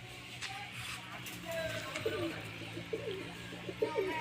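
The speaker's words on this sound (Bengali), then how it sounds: "এই যে হলো নর পায়রা" A male Madras pigeon gives soft, low cooing calls, fairly close, among light shuffling, with a person talking over it.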